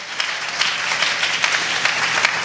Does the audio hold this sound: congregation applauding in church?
yes